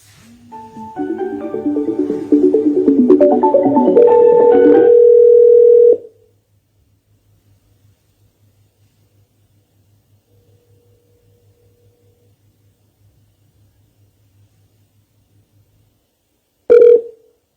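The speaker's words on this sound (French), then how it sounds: "Donc, si vous êtes là, monsieur Barry, si vous êtes là, je vais vous appeler maintenant, là, directement." A telephone call is placed: keypad dialing tones give way to a steady dial tone, a faint low hum continues for several seconds, then a short ringback tone sounds near the end.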